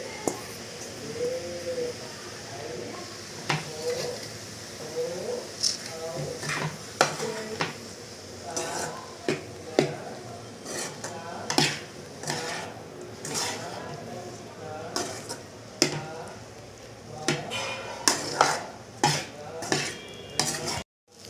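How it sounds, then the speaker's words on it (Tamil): Crumbled idli and egg are stirred in a frying pan with a metal spatula, repeated scraping clinks against the pan over a soft sizzle, while someone talks throughout. "இப்போ இதில் வந்து கொட்டி நல்லா கலரிக்கலாம்."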